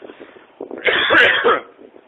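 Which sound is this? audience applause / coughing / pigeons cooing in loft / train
coughing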